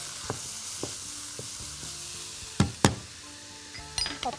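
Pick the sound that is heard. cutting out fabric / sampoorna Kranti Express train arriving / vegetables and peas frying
vegetables and peas frying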